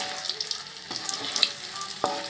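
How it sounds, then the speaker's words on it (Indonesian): Scrambled egg with sausage sizzles steadily in a pan while being stirred, a continuous crackling hiss with scattered scraping knocks of the utensil against the pan, close and without talking. "Kita bisa aduk-aduk seperti ini."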